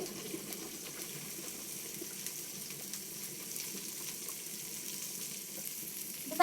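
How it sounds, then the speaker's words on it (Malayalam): Oil sizzles steadily in a pan as garlic fries, a constant crackling hiss with occasional louder pops, close by. "ആദ്യം നമ്മൾ എണ്ണ ഇട്ടിട്ട് വെല്ലുള്ളി ഇട്ട് കൊടുക്കട്ടെ"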